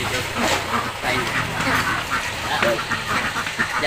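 Ducks quack in a noisy flock at a duck-rearing farm, overlapping calls coming close and continuous with constant background din and a voice mixed in.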